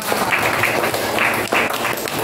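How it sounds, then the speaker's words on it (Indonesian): Pupils in a sixth-grade classroom applaud a classmate, a dense, steady patter of many hands clapping close by that fills the whole moment without pause. "Tepuk tangan buat Raka."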